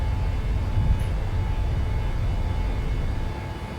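Airliner takeoff roll in a flight simulator game, a loud continuous low engine roar and rumble that holds steady and eases slightly near the end.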